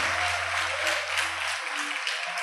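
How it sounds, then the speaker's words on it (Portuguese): Steady, dense applause from a church congregation praising God, a continuous crowd clapping over soft low keyboard notes that fade partway through. "Você pode aplaudir esse Deus maravilhoso."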